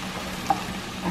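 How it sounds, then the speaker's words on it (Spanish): Cheese meant for frying sizzles in a hot pan, a soft steady crackle with one brief pop, heard alone at low volume. "Ahora le voy a poner el queso para freír."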